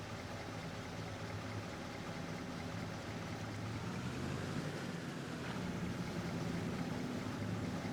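A ferry boat moves across water in the video game Farming Simulator 25, giving a steady, fairly quiet rushing wash of water and engine rumble throughout.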